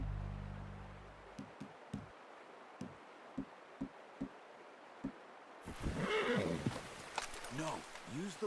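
Horse in the video game Red Dead Redemption 2 snorting and neighing, with a series of soft evenly spaced hoof steps, faint, followed by a louder whinny-like burst near the end.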